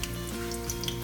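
Half a bulb of sliced onions fries in hot oil, giving a dense, continuous sizzle that stays close and even for the whole short stretch.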